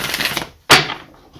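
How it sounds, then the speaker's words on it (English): A quick riffle of tarot cards being shuffled, a rustling run of card flicks, a short pause, then one sharp snap of the deck settling, close up. "If I can shuffle the cards"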